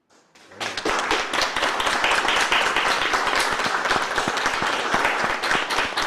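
An audience at a lecture on Brazilian art history breaks into applause after a short silence, loud dense clapping that holds steady for several seconds, close and without talk.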